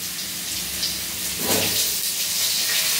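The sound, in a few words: potatoes frying in oil for chicken stew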